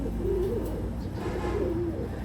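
Pakistani pigeons cooing in two soft, rolling calls close by over a low, constant hum.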